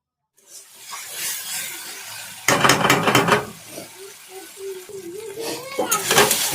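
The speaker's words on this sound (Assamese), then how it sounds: "ভালদৰে ভাজি ল'ম।" Cumin powder and spices frying in a pan for a rohu fish curry, with a loud burst of sizzling and stirring mid-clip, then softer frying sounds under a voice nearby.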